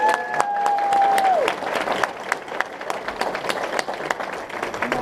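Hearty applause at a banquet thanks the venturing scouts, with scattered claps building into steady crowd clapping while a tonal squeal fades at the start and murmured voices run underneath.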